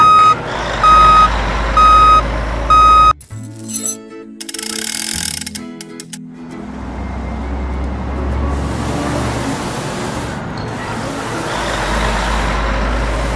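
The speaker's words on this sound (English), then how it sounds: "Tow truck." A tow truck's reversing alarm beeps in a loud, evenly spaced series up close, then gives way to clanking mechanical noises and a steady rumble.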